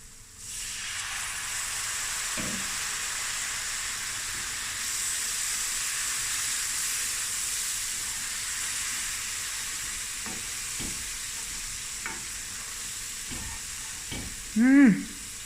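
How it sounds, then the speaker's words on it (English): Spices frying and being stirred in a pan for a creamy mussel curry: a steady, fairly quiet sizzle with a few soft utensil clicks, and a brief sharp squeak near the end. "And now we're just going to let the spices cook through."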